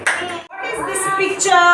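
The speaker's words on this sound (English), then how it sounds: "Give good clap to Sriyansh" A class of LKG children gives a short burst of clapping for a classmate in a preschool phonics lesson, with a teacher's voice speaking just before it.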